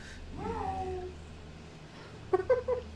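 Cat meowing at a window while facing off with another cat, a drawn-out wavering meow up front followed by a few shorter, sharper cries near the end, moderately close over a low background hum.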